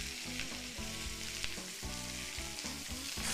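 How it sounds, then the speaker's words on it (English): Ginger and garlic sizzle in a hot pan with oil, a loud, steady frying hiss. Stirring scrapes come through, and music plays underneath. "Now that it's got a golden color, I'm gonna add the ginger to here."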